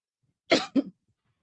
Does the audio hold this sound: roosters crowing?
no